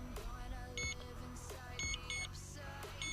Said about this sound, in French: Ça se met à biper.